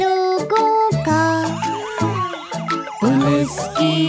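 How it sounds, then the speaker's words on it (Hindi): A cartoonish police car siren wails in a bright, melodic up-and-down pattern amid tinkling chimes and synth notes, loud and alone, in a playful children's song. "वीयू वीयू मदद के लिए, वीयू वीयू। पुलिस की गाड़ी पीछा करती बुरे लोगों का।"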